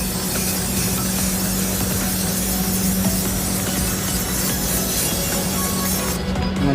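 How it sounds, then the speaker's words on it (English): Spray paint hisses from an aerosol can onto a car mag wheel in one loud, continuous spray lasting several seconds, close to the listener with no pauses. "You want to spray over the piece."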